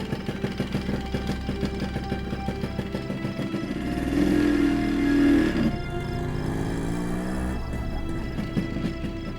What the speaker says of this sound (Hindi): जा जाकर इसको अपनी बाइक पर छोड़